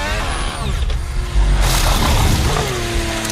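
A Formula 1 car engine at the Sakhir Grand Prix screams past under a full safety car, its high whine shifting pitch as it nears and passes, loud and close.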